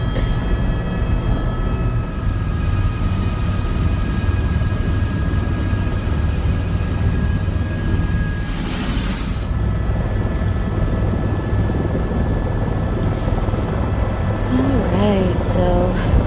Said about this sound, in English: that was the end of our beautiful helicopter ride over Hawaii